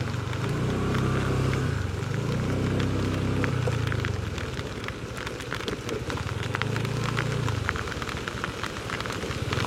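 Sudden heavy rain pours down steadily on a motorcycle trip along the Pantura road, with a dense hiss of drops and a low engine hum rising and falling underneath.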